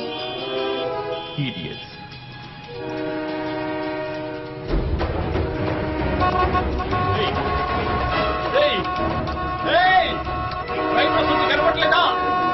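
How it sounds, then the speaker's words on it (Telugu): Vehicle horns blare in a dubbed film scene as a train approaches, with long sustained blasts that stop and restart over several seconds amid busy traffic noise and voices talking. "ఎందుకు పిచ్చిగా హార్న్ కొడుతున్నారు"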